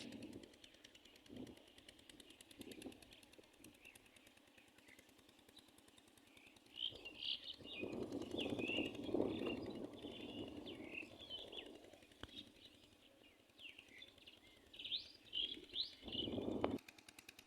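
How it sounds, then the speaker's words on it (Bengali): Several birds call and chirp in spring countryside near a village home, faint and scattered at first, then a louder burst of mixed twittering with wing flutters in the middle and end, no talking. "চোখের ধারে কিন্তু অনেক ধরনের পাখির ডাক শুনতে পেলাম"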